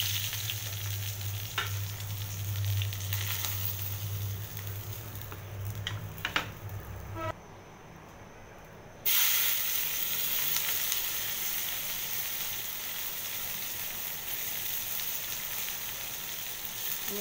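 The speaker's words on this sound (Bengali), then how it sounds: "আমি এগুলোকে একটু তেলের মধ্যে ভেজে নেব।" Onions and green chilies frying in oil after fish has been fried, giving a steady close sizzle that breaks off briefly midway and then resumes at full strength, with no talking.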